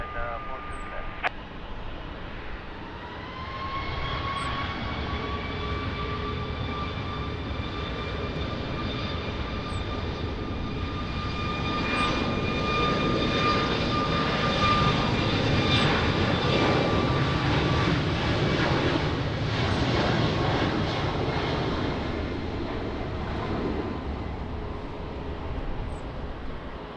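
An airliner taking off at Lisbon Airport: a loud, steady roar of jet engines building and sustained throughout, with a rising whine and faint radio voices heard early on.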